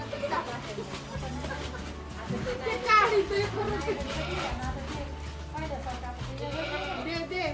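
Goats bleat on a village farm, their calls rising repeatedly amid the chatter of children playing and talking nearby.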